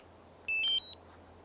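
A DJI Mavic Air drone controller gives a short electronic power-on chime, a quick run of bright beeps lasting about half a second over quiet background hiss.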